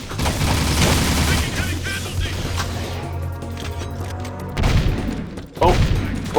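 Rapid bursts of gunfire and booming blasts from the wrong weapon in the video game Jak II, loud and dense at first, then thinning to scattered shots and a final explosive hit.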